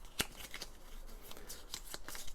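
Cards from the board game Oath being shuffled by hand, a quick riffle of crisp papery flicks and snaps in a short burst, fairly close and without talk.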